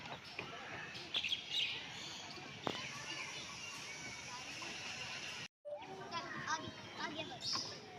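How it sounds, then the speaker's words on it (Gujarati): Many birds in a zoo aviary, including purple herons, little egrets and red-naped ibises, chirping and calling over a busy background, with faint children's voices and a brief dropout partway through. "અહીંયા ઘણા બધા પક્ષીઓ તમને દેખાઈ રહ્યા છે હમણાં."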